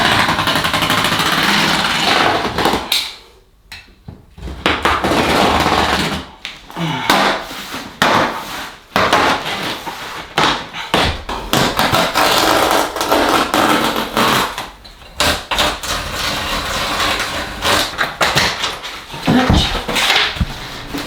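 A power tool cuts floor tile along a laser line, running loud and continuous with brief pauses where the blade lifts away, gritty and harsh throughout.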